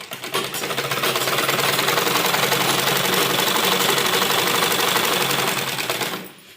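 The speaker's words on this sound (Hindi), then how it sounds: "इसको इस तरीके से सफाई के साथ हमें सिलाई लगानी है।" A sewing machine stitches a lined embroidered suit, its fast, even needle clatter loud and continuous for about six seconds before stopping abruptly.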